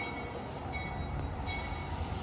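A train rolls past near a railroad crossing, producing a continuous, fairly close broadband rumble and rail noise with no clear bell or horn and no voices.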